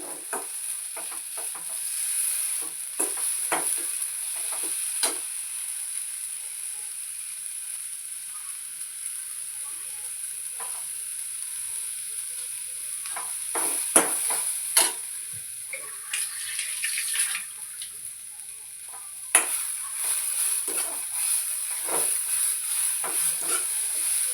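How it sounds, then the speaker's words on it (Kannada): Onions frying over a medium flame, a steady close sizzle punctuated by scattered clinks and scrapes of a spoon stirring the pan. "ಮೀಡಿಯಮ್ ಫ್ಲೇಮ್ ಮೇಲೆ ಇಟ್ಕೊಂಡು ಹುರ್ಕೊಂಡ್ರೆ ಸ್ವಲ್ಪ ಎಲ್ಲ ಬಿ ಚಂದ ಫ್ರೈ ಆಯ್ತವಲ್ಲ"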